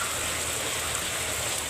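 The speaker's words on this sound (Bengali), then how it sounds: "প্রচুর বৃষ্টি হচ্ছে, খুব খুব।" Heavy rain pours down in a village, a dense, steady hiss of water that stays loud and unbroken throughout, with no voices.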